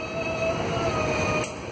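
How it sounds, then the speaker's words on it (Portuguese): AC44i diesel locomotives shunting in a rail yard, a steady loud rumble of engine and rolling wagons with faint high wheel squeal throughout, easing slightly near the end. "Aí mais uma manobrinha aqui em PCZ."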